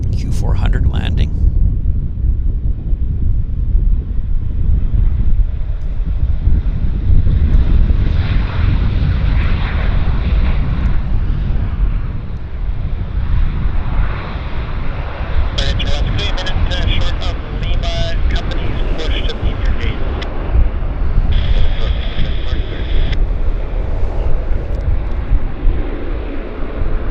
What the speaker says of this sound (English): Q400 landing.